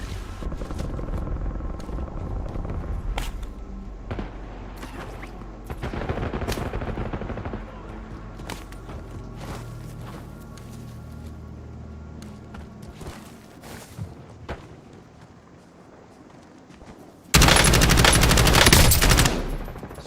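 Video game warzone combat with bursts of automatic gunfire and scattered single shots over a rumbling, helicopter-like background, ending in a loud, sustained rattle of fire.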